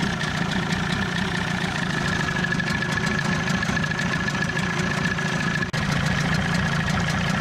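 An Evinrude 25 outboard motor idles in a test barrel with a steady, even running note and a faint whine, alone with no talk, broken by one brief dropout near the end.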